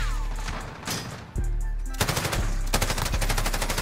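Sustained LMG fire from the Encryption MK9 light machine gun in Modern Warfare, loud rapid bursts with brief pauses, continuous and dense with no talk over it.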